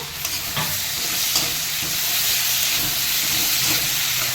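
Spice paste of garlic, dried chilli, cumin, black pepper and ginger frying in hot oil, a steady close sizzle and hiss with occasional stirring scrapes throughout, no voices.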